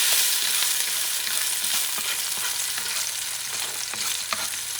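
Red and orange bell peppers for sofrito sizzle in a pan with a bright, continuous hiss, broken by occasional scraping stirs.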